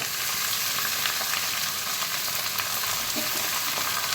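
Greens are tipped into a hot pan already holding eggplant and ridge gourd for a Bengali pui shak, taro and hilsa fish-head chorchori, giving a steady, loud hiss and sizzle of frying with faint stirring scrapes and no talk.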